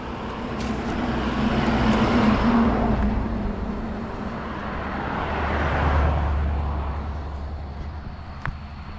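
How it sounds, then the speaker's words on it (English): A school bus passing on a road in Lewiston, Maine, a broad engine and tire rumble swelling up close, fading, then a second low vehicle drone rising and receding. "Don't want to get hit by the school bus."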